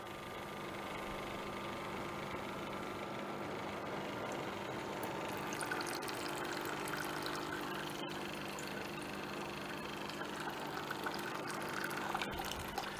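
A DeLonghi Nespresso Lattissima One runs its descaling cycle, its pump droning steadily as water flows through the system and out, a continuous close hum with gurgling liquid throughout.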